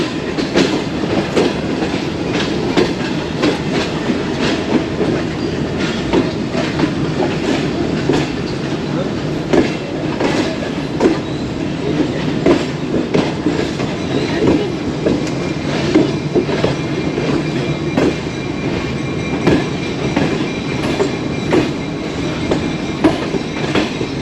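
A train at Jhelum railway station in Pakistan rolls with continuous rhythmic clickety-clack of wheels over rail joints, loud and close, with a crowded, busy background.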